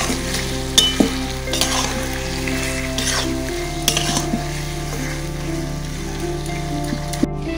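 Chicken sizzling and frying loudly in hot oil with turmeric and a little Kashmiri chili powder as it is stirred, a steady crackle with occasional spoon scrapes against the pan, close by and with no voices.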